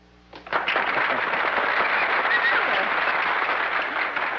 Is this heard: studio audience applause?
yes